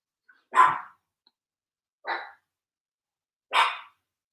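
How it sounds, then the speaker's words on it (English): A dog barks three times, spaced evenly at moderate distance, each a single sharp bark with clear gaps of silence between them; another dog is setting off a small Napoleonic house dog. "Another dog setting my dog off."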